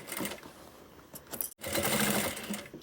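A sewing machine runs steadily, stitching a closing seam on the right side of a fabric toiletry bag, loud and close with a brief stop midway before it resumes.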